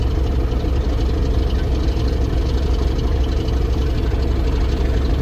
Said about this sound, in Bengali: লঞ্চের বাম পাশের ইঞ্জিন চলতেছে